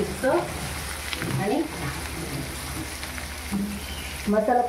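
Fish and masala cooking together in a pan give a steady, soft sizzle and frying crackle close by, with faint voices now and then.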